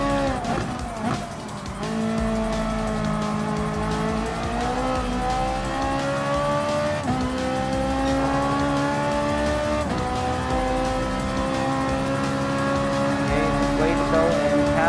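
A Ferrari 458 Italia GT3 racing in Gran Turismo Sport, its engine howling loud and close as the pitch climbs through gear changes, with tires squealing under a voice talking over the run.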